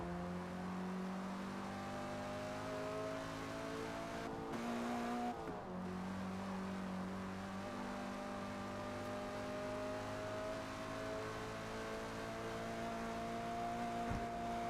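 A car drives on the Nürburgring, its engine a steady, droning hum heard from inside with a gear-shift dip midway, sustained throughout.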